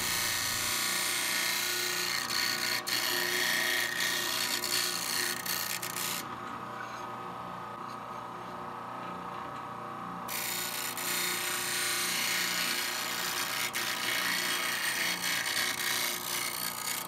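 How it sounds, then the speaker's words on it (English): A 12-inch disc sander grinding the pointy corners of aluminum triangles in a woodshop, a steady loud whirring drone with the high-pitched grinding dropping away briefly midway before resuming. "I just have a 12-inch disc sander, and it just sanded that aluminum, no problem."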